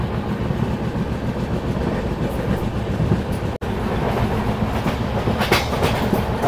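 A Kolkata to Cooch Behar passenger train runs steadily on its tracks, a loud continuous rumble with rhythmic clickety-clack from the wheels, heard from inside the moving carriage.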